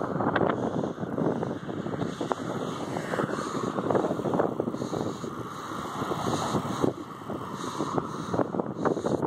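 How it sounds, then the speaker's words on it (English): Strong wind buffeting the microphone while riding a bike along the Broad Channel bike path, a steady loud rushing roar with gusty swells throughout. "the wind turned on me. So now I'm hitting the wind both sides."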